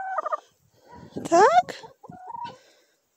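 A hen in a farmyard gives short clucks and a rising squawk, close and moderately loud, with a person speaking briefly in between.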